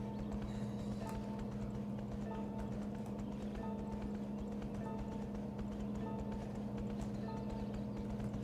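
Horse hooves trot in the video game My Horse and Me 2 with an even, regular clip-clop rhythm over a steady low background hum, fairly quiet and unbroken by speech.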